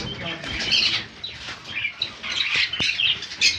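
Pineapple and yellow-sided conures in a bird shop let out shrill squawks and chirps with fluttering wings, close and loud, while a voice talks underneath.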